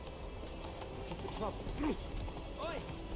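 Horse hooves clip-clop in the video game The Witcher 3, a few quiet, uneven steps over a steady hiss of game ambience, with a couple of faint tonal calls above them.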